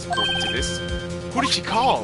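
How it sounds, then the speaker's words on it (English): A brief electronic phone ringtone from the video game Phoenix Wright Trilogy, a steady tonal ring of about a second, heard under a voice talking. "I heard a phone ring just now."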